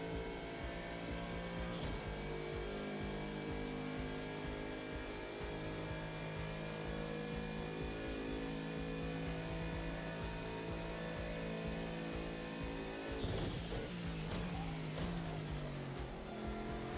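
A McLaren GT3 race car in Project Cars 2 accelerating down the Conrod Straight at Bathurst, a loud sustained engine whine climbing in pitch through the gears with a shift near the end, no talking.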